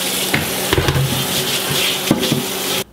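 A cast iron skillet being rinsed under running water and scrubbed without soap, close and loud, with irregular scraping bursts over the hiss of water that stops abruptly at the end.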